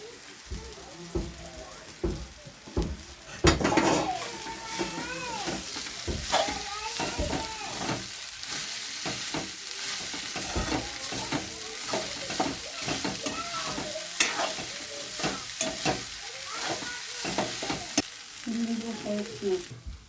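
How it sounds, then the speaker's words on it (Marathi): Flattened rice (poha) tipped into a pan of lightly browned fried onions and stirred for kanda poha, close sizzling under frequent clattering spoon scrapes and knocks that run steadily throughout. "आता मी यात पोहे टाकत आहे"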